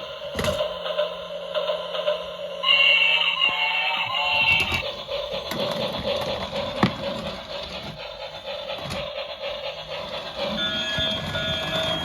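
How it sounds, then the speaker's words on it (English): A toy LX 357 glitter high-speed bullet train runs along its track with a steady rolling rattle, over which play sounds and tonal effects rise and fade. No talking is heard. "Watch out, Pinkie Pie, train's coming."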